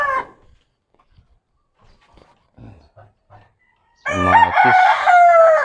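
A rooster crows loudly and close by in one long, drawn-out call near the end, following a spell of quiet broken by faint scattered taps and a brief voice at the start, in a home vegetable garden.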